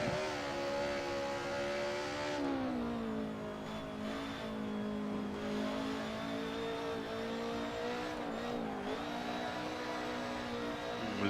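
A Mercedes DTM race car from a 1992 racing video game, its engine droning at a steady high pitch with shifts in revs, loud and continuous, no voices.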